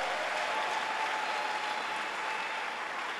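A church congregation claps in steady, dense applause, a loud, even wash of many hands throughout, with no talking.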